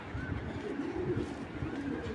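A Belgian cross racer pigeon coos softly in low, repeated throaty phrases against a steady background hum, with no clear speech.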